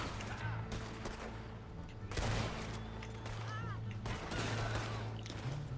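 Loud video-game gunfire in sharp bursts and rapid volleys, several cracks crowding together over a steady engine-like hum, with people talking over the shooting.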